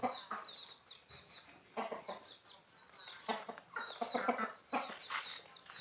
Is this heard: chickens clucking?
yes